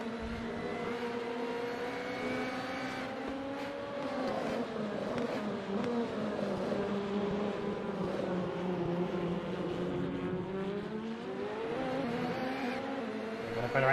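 Race car engine in a racing video game, a continuous loud droning roar with pitch rising and falling through gear changes and corners, holding steady for the whole stretch with no talk.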